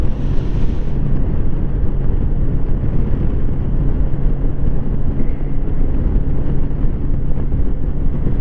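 Steady, loud wind buffeting a helmet or camera while riding a CfMoto 700 MT Adventure motorcycle, a continuous broadband roar with a brief brighter hiss at the start and no talk.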